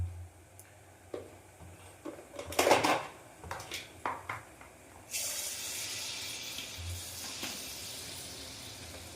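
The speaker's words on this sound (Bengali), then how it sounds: "দেখো গ্যাসটা আমার লো ফ্লেমেই করা আছে, তো ভাজাটা হচ্ছে।" Malpua frying in oil in a pan over a low gas flame, a steady hiss and sizzle that swells midway, with a few metallic clinks of a utensil against the pan beforehand.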